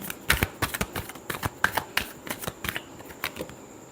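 A deck of tarot cards being shuffled by hand, a quick run of crisp, papery riffles and slaps in an irregular rhythm, close and clear with no talking.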